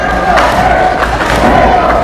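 Loud arena crowd at a wrestling showcase roars and cheers continuously, with swelling shouts and a few thuds in the mix as one wrestler rallies the audience.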